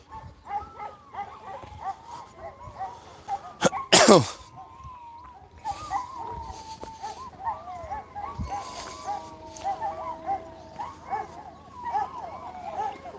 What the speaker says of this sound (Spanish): ahora como escuchen a esos perros aullar se van a pensar que son lobos